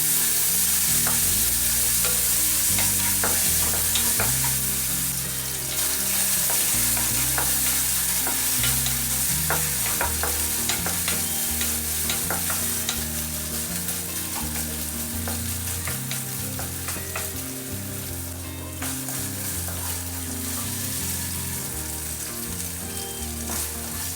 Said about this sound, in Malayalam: മാരിനേറ്റ് ചെയ്ത് വെച്ചിരിക്കണ ചിക്കൻ ഫ്രൈ ചെയ്തെടുക്കാം ആദ്യം